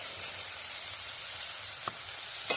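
Chopped green chillies sizzle in a pan of banana curry, a steady, dense frying crackle with a couple of faint taps from stirring.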